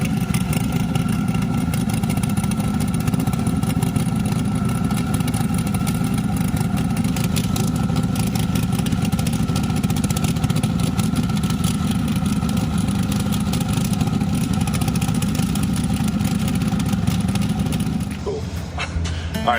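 Leroy, a drag race car in a 2,500 hp grudge race, idles loudly and steadily at close range with a deep, even rumble that holds nearly the whole time before dropping off at the end.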